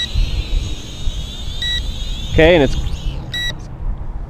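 An FQ777 918 drone in headless mode emits a continuous high electronic beep and short pulsed tones over the whir of its rotors outdoors, while someone talks briefly.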